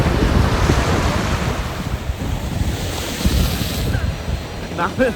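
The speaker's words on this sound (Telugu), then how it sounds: "చూడండి ఇప్పుడు ఎలా వస్తాయో వాటర్" Rough sea waves surge and crash onto a city beach in Cyprus, a loud continuous wash of surf heard up close with heavy wind buffeting the microphone.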